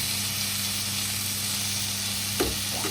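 Chillies and curry leaves sizzle in a pan for a mutton roll filling, a dense, even hiss held close and steady throughout, with one brief scrape of mixing near the end.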